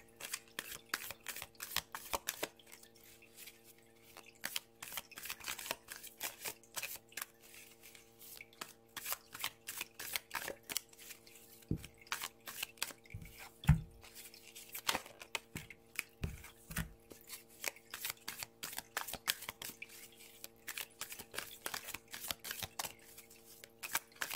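Oracle cards are shuffled by hand in quick, crisp bursts of riffling and sliding, close and fairly quiet, with a few soft taps as the deck is handled and no talk.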